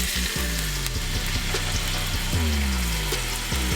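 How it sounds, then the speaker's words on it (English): Meat searing in oil in a hot skillet on the stove for chicken and sausage gumbo, a loud, dense sizzle with a few scraping and clunking handling sounds over it; no talking. "Put that straight down for a good sear."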